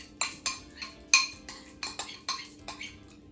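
A spoon stirs a small-curd cottage cheese mixture in a bowl, giving about a dozen evenly spaced scraping clinks of metal against the dish, close and fairly quiet.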